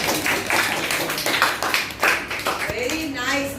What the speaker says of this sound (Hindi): तालियां तो बजाओ इससे